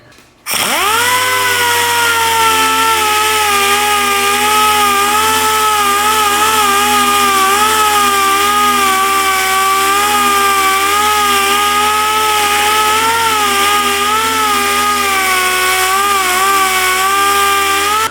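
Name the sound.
dual-action sander with 40 grit sanding steel bumper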